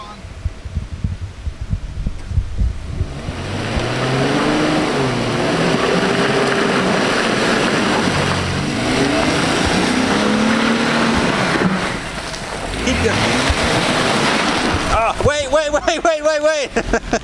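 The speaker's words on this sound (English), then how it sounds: "now we're doing donuts on a green trail that just dead-ended" A Mercedes does donuts in mud on a dead-end green trail. The engine revs and drones in rising and falling sweeps, loud and nearby, easing briefly before surging again near the end.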